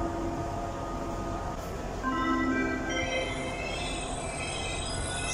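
A train stands at a station platform in Vrútky, Slovakia, giving off a steady low rumble with faint high metallic squeals and tones rising toward the end, heard without talk.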